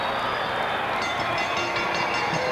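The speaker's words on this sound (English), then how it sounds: "Listen to this crowd." A wrestling arena crowd roars at Tony Garea's match against Moondog Spot, a dense, steady wall of loud, unbroken noise from a large audience with no clear individual voices.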